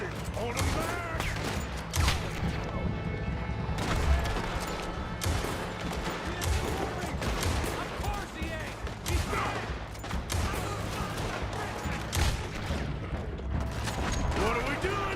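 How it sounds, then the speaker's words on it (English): Gunfire crackles in Red Dead Redemption 2, dense volleys of shots and sharp cracks overlapping almost continuously, loud and close, with shouting voices and other game sounds mixed in among the shooting. "Just keep shooting!"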